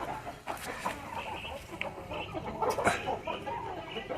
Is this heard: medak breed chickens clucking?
yes